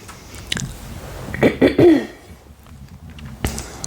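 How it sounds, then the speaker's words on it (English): A short, rough throat clearing up close, a few guttural rasps in quick succession, then quiet. "Sorry, I had to clear my throat."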